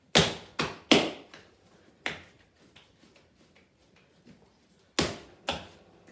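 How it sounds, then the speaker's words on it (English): Dinner roll dough being folded and slapped by hand on a work surface, giving a few sharp thumps and taps at uneven intervals with quiet pauses between them, close by and with no talking. "I'll just give it a bit of a fold here."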